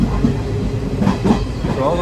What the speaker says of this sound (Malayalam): ഇങ്ങനെ ഇരിക്കുന്നു ട്രെയിൻ.